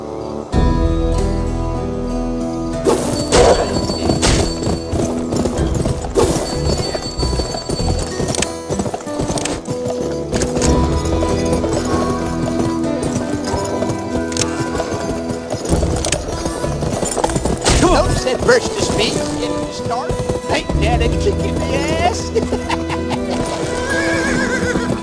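A horse gallops steadily in the Western video game Gun, with rapid clip-clop hoofbeats, whinnies and neighs over a dense, continuous game soundscape and music.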